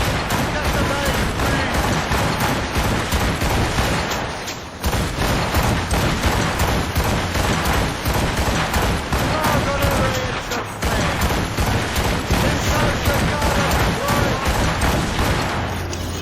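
Naval cannons on a sailing ship blasting in the Assassin's Creed Rogue video game, a relentless rapid barrage of booming shots with a brief lull midway, loud and continuous, with voices faintly mixed under the gunfire.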